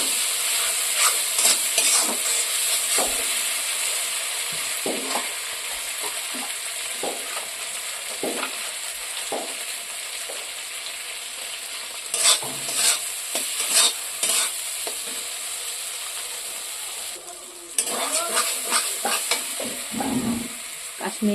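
Tomato and spices being stirred and fried in a pan, a loud, constant sizzle close up, broken by repeated scraping and knocking strokes of a spoon against the pan.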